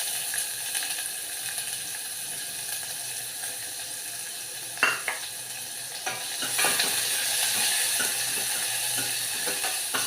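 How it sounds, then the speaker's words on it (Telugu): Chopped onion sizzling and frying in a pan while spinach dal (palakura pappu) is made, a steady hiss with occasional clicks of stirring, growing a little louder partway through, with no talking. "ఇవి ఎర్రగా వేగాలి."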